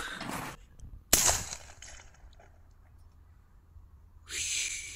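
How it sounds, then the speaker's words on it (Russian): A single sharp launch crack of a green signal flare rocket, followed by a fading hiss and quiet, then a faint breathy whoosh near the end. "Сейчас мы будем производить сигнальный выстрел."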